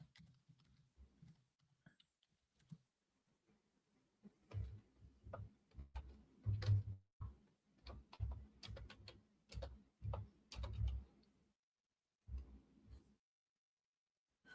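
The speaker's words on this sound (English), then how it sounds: "Just type in Star Talk" Typing on a computer keyboard: scattered quiet clicks at first, then bursts of close, soft keystrokes in uneven clusters separated by short pauses.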